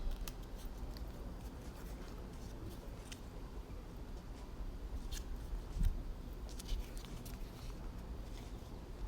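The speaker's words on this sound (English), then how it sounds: "The next one you'll pick up and you'll cut out three petals." Scissors snip repeatedly through paper or fabric rose petals, with irregular faint crisp cuts over a low steady background rumble.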